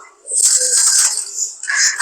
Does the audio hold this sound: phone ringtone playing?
no